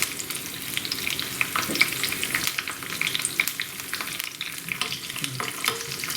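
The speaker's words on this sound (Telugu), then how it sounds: "ఈ ఎండుమిరపకాయలు వేగేటట్టుగా కలుపుకోవాలి" Dried red chillies, green chillies and curry leaves fry in hot oil with a steady, bright sizzle and crackle, stirred now and then, no voices.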